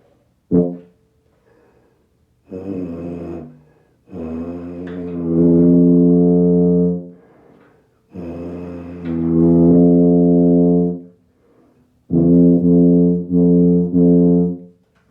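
A tuba plays several long, low sustained notes, separated by short pauses, loud and close, preceded by a brief sharp attack.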